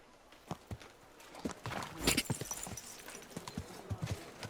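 Horse hooves clip-clop at a steady walking pace, with a brief louder rustle in the middle, fairly faint, in the video game Kingdom Come: Deliverance 2.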